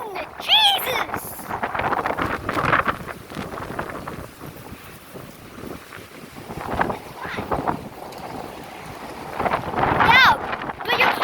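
Gusts buffet the microphone in a fierce windstorm in Ronkonkoma, New York, rising and falling in loud roaring waves, with voices shouting and talking over the wind.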